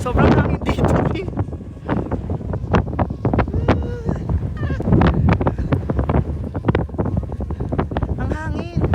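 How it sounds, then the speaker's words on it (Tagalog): Strong wind gusting across the mountain summit of Mount Sembrano, a loud continuous roar buffeting the microphone with rumbling low end throughout, while hikers talk over it. "Sobrang hangin dito, eh."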